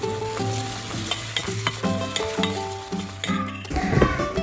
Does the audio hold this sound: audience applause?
no